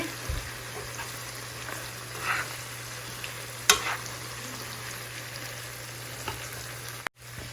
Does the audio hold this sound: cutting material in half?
no